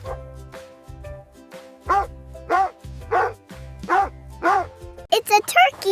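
A dog barks six or seven times at a steady rhythm, loud and close, over a musical backing, then a few higher yips at the end.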